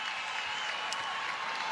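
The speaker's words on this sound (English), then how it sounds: "the crowd will go nuts for that" A crowd at a women's college basketball game, USC against Colorado, cheers and applauds in a dense, steady hiss of clapping that holds at moderate loudness throughout without a break.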